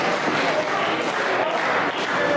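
A wrestling crowd at the Grandel Theater roars and cheers in a continuous, dense wall of noise, with scattered claps and voices mixed through it.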